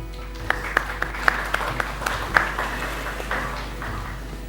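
Studio audience applause on a Pakistani Ramazan iftar TV show as a university student guest is welcomed, a moderate patter of clapping with a few louder claps over a steady electrical hum.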